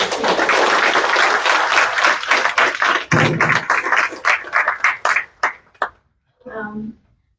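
An audience at a county commissioners regular monthly meeting breaks into applause that starts dense, then thins into sparse individual claps before stopping, with a voice speaking briefly afterward.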